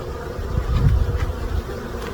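Honeybees buzz at the hive during a spring inspection, a dense low drone close to the microphone that swells briefly in the middle, with no talking.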